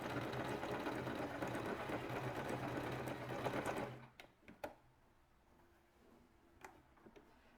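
A sewing machine stitches steadily at close range, switching between straight, zig-zag and mock-overlock stitches. The whir runs continuously for about four seconds, then stops, and a few sharp clicks and taps follow.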